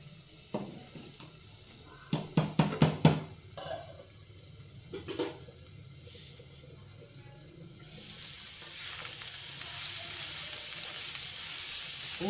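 Ridge gourd peels cooking in a pan for chutney, a few sharp clatters of a lid and utensils, then a steady hiss of sizzling and steaming that grows louder toward the end.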